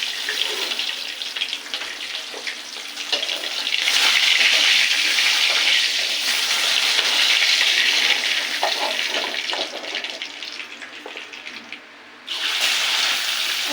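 Chicken pieces for chicken biryani sizzle in a pan, a loud, steady hiss that keeps going with only a brief drop near the end. No one speaks.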